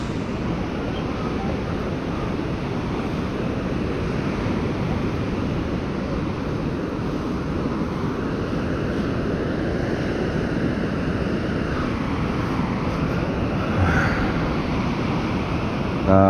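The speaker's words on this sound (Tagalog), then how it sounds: "Lakas lang alon." Strong ocean waves crashing on a shore, a continuous loud roar of surf mixed with wind buffeting, with no clear breaks.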